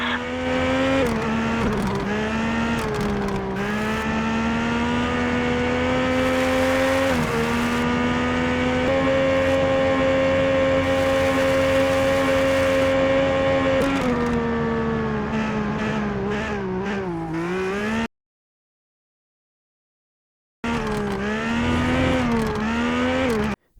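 Race cars in a racing video game, a loud continuous engine whine that rises and falls through gear changes, cut by a couple of seconds of silence before it resumes.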